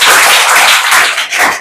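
A classroom of students bursts into loud, steady applause, a dense wash of many hands clapping close by for the whole moment, dipping briefly near the end.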